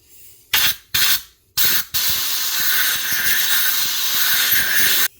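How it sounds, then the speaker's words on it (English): Brake cleaner blasted from a can in three short hissing bursts, then a long steady blast of compressed air from an air hose, cleaning a bolt hole in an M54 engine head during head gasket work. "I'm just taking brake cleaner."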